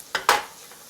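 Minced garlic in butter in a pan for seafood pasta, two quick close stirring scrapes over a faint sizzle, brief and without talk.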